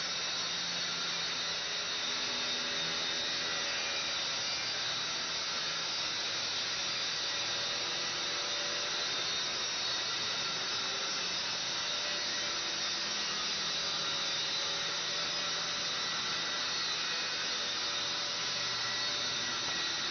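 A saw runs on a shop-built carpentry panel saw as its carriage rolls on bearings along conduit rails, making a steady, even motor drone throughout that stays fairly faint and unbroken, with no voices.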